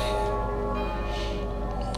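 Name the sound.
church bells chiming in video game Medieval 2 Total War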